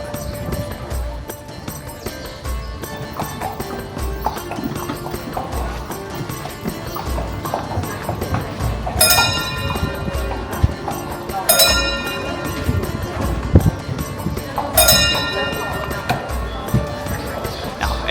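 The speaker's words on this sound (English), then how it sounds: "Narrow cobblestone streets, winding between palaces, and there are no cars. Instead, delightful horse-drawn carriages." Hooves of horse-drawn carriages clip-clop on narrow cobblestone streets in Malta, a moderate steady clatter amid street ambience and some sharp bright ringing hits.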